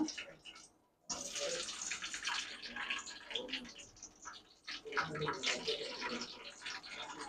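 Green chillies spluttering in hot oil in a pan while a mango pickle is being made, a bright crackling, hissing sizzle with irregular pops that starts suddenly after a brief quiet moment and continues at moderate loudness.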